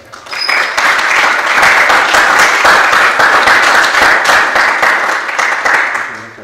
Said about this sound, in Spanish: Por favor, denme un fuerte aplauso